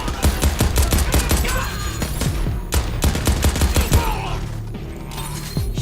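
Heavy gunfire from the video game Crackdown 3, loud dense volleys and rapid automatic bursts hammering almost without pause, with explosive cracks layered throughout.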